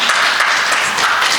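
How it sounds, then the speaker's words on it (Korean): A brief, dense burst of steady hand clapping from a church audience, loud and close, with no pause in the sound. "박수도 치네."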